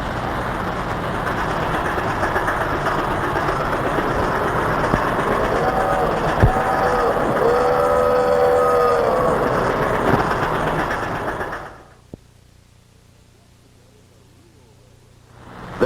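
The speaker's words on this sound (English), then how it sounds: "So listen for the whistle." A train whistle sounds over loud rumbling rail noise for a few seconds, then the clatter fades abruptly into near quiet.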